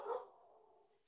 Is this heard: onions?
no